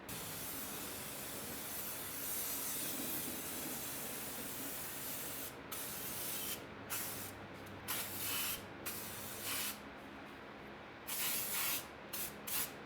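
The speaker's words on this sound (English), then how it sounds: "so we're gonna go ahead and spray paint it" Steady hiss of an aerosol can spraying truck bed liner coating on 1965-1966 Ford Mustang brake parts, long continuous bursts broken by short pauses near the end, close and moderately loud.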